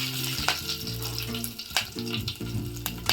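Cumin seeds and curry leaves sizzle and crackle in hot oil for a rasam tempering, a steady close frying hiss with sharp spitting pops throughout.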